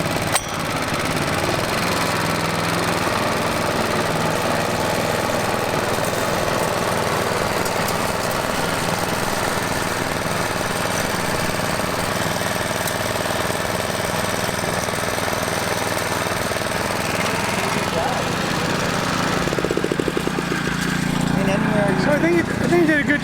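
A lawn mower with its grass catcher fitted runs steadily across a bumpy lawn being levelled, a loud continuous engine drone with rough rattling, close by for the full length, rising briefly near the end.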